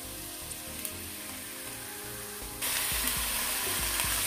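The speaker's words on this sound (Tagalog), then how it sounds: "Let's fry the chicken over here." Chicken pieces sizzling in a hot pan for chicken tinola, a steady crackling fry that jumps louder and brighter halfway through as more chicken goes in.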